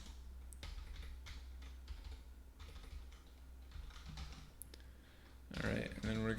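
Someone types on a computer keyboard during a command-line hacking exercise, producing quiet, irregular key clicks at close range, with a louder flurry of keystrokes near the end.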